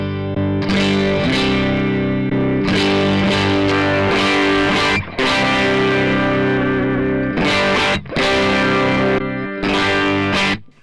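High-gain distorted electric guitar played through a ToneX pedal on a pedalboard with HX Effects, loud and saturated, with chugging chords and sustained ringing notes broken by a few brief pauses.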